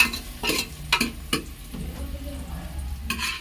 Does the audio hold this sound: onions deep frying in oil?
yes